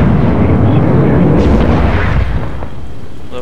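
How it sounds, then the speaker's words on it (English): A rocket lifts off in a video game, an arcology launch: a loud, dense roaring rumble fills the whole moment without a break and eases slightly toward the end. "Lift off."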